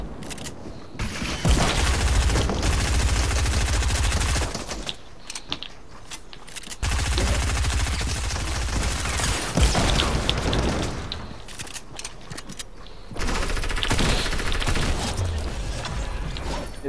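Gunfire from the Fortnite video game comes in dense, sustained bursts with mechanical clatter, pausing briefly around five seconds and again near twelve, loud throughout with no talking.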